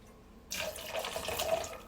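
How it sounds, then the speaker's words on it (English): Purple-violet Empress gin is poured into a glass as a steady, close liquid stream that starts abruptly and runs unbroken, with no talking. "So nice little pour of that beautiful purple violet Empress."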